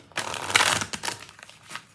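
A deck of oracle cards is shuffled in a burst of riffling and soft slapping, close and fairly loud, over roughly two seconds.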